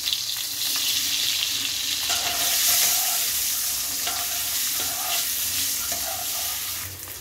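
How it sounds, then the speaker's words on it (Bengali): An egg fries in hot oil with turmeric and salt in a home kitchen pan, giving a steady, loud sizzle with occasional stirring scrapes and no talking. "এবারে তেল দিয়ে দিলাম আমি আরেকটু, ডিমটা ভেজে নিচ্ছি।"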